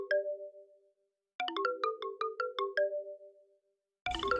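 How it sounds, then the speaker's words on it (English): A cell phone in Deadly Premonition 2 rings with a bright electronic melody, a short opening phrase, then a run of rapid repeated tones, pausing before starting again. "Oh, that was his cell phone."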